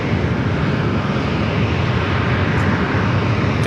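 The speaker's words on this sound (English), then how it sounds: "This United flight heading to Denver, flight 682," United Boeing 737-900ER airliner at San Diego airport, a steady, loud broadband jet roar with no breaks, close and continuous throughout, with no talk over it.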